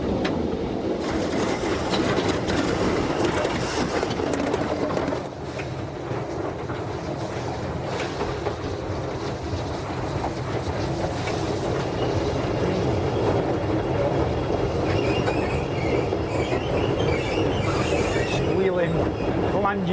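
A steam locomotive running on a railway, a loud, continuous rumbling and hissing with a steady mechanical drone throughout, close by and without pause.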